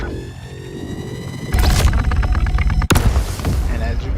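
A railgun in a video game fires against an 85X small light fighter: a sharp, loud boom cracks out near the end, amid layered game noise and alarm-like tones, with a voice talking.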